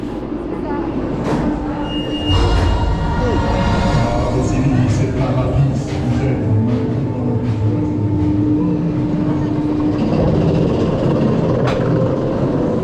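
A ride train at Parc Astérix rumbles and clatters along its track nearby with squealing wheels and a low mechanical drone, continuous throughout.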